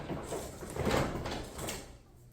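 A residential garage door rolls open after its broken torsion springs were replaced and the tension adjusted, giving a steady rumbling, rattling run at moderate volume that fades toward the end.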